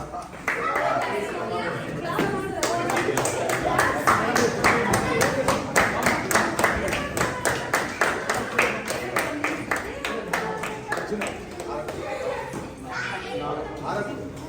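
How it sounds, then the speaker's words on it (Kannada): An audience at an open karate championship claps steadily, the crowd applause settling into a rhythmic, even beat while voices talk throughout. "ಬರಲಿ ಚಪ್ಪಾಳೆ."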